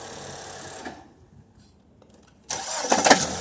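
A car engine cranks and fires up after a quiet pause, settling into a loud idle with a fast, rhythmic tapping noise underneath.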